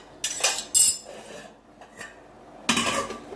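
A lid is set onto a cooking pot of moong dal khichuri with vegetables, giving a few close metallic clinks and clatters in short bursts with quiet gaps between.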